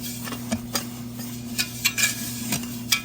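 A spoon stirs sugar into clear gel in an unheated pot, giving soft scraping swirls punctuated by a handful of light clinks against the pot over a steady kitchen hum.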